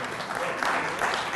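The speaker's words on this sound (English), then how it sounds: "How about a hand of applause for their winner" An audience applauds for a winner, a short, dense burst of clapping from a room full of people.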